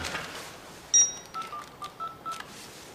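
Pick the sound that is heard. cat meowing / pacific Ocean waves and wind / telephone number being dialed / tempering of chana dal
telephone number being dialed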